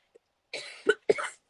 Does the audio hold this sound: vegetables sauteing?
no